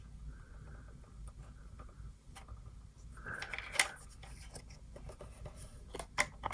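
Scissors cut through card paper while making a quick handmade greeting card, with a few soft close snips and a brief crisp crunch over a quiet background.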